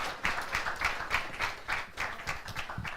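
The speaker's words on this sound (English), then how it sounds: "Let's give the panel one more round of applause." Audience at the Black Blockchain Summit applauding a panel, a thin, quick round of claps from a small crowd with a steady, slightly uneven rhythm, fairly quiet and distant.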